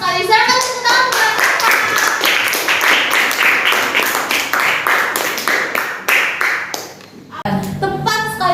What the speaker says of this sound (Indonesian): Tepuk tangan buat kawan.